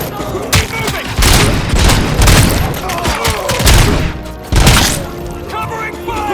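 Heavy gunfire from a firefight in the video game RoboCop: Rogue City, with repeated loud bursts and booming impacts in dense, overlapping volleys, and voices shouting over the shooting.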